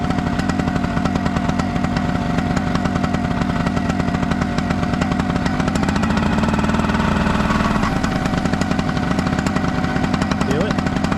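A homemade flying machine's engine runs loud and close throughout, with a steady rapid chugging that swells as the throttle is opened midway, then settles; a voice talks over it.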